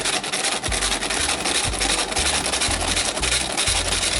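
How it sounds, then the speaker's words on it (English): Flour, baking powder, sugar and salt are shaken through a sifter for funnel cake batter, making a continuous scratchy rubbing rasp. It is close and steady, with rhythmic pulses from the shaking, and no one speaks. "baking powder, sugar, and salt. And we're going to give that a good sift"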